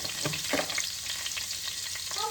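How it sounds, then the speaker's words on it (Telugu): Dried red chillies crackle and sizzle in hot oil, a steady frying hiss with small pops, close and fairly loud. "ఆయిల్ వేడైన తర్వాత 2 ఎండుమిరపకాయలు,"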